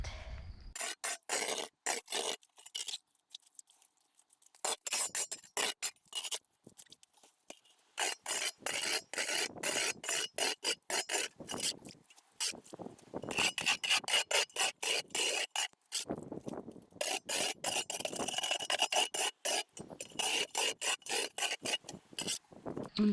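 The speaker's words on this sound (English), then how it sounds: "I also get to scrub the green stuff off of the sides, which will probably take a while." Green algae gunk is scrubbed off the inside walls of a water tank being turned into a splash pool. Close, loud rasping strokes repeat in quick bursts, broken by short pauses, with no talking.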